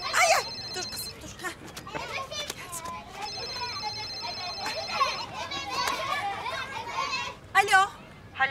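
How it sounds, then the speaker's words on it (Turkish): A telephone rings in a busy home, its repeating electronic tone heard in bursts beneath loud children's chatter and play and an adult voice. "hayatım telefonu çalıyor"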